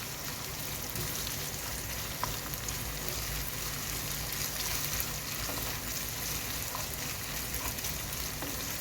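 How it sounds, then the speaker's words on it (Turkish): Tomato paste sizzles and fries steadily in a pan with oil for a stuffed aubergine dish, a close, even crackle with faint stirring throughout. "bir yemek kaşığı kadar salça ekleyelim. Güzelce kavuralım salçamızı."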